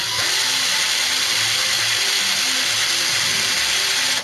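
A power drill whines continuously and loudly up close while a phone is being repaired, holding a steady high-pitched motor buzz before cutting off abruptly at the end.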